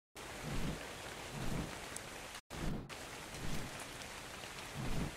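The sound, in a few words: rain in video game Ark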